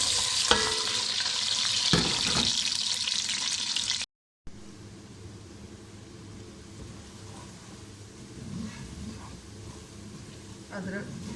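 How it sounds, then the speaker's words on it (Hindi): Onions sizzle and crackle steadily in hot oil, loud at first, then settling into a softer, ongoing fry after a brief cut. "यहाँ पे हमने तेल गर्म होने के लिए रखा है, इसके अंदर अब प्याज डालते हैं।"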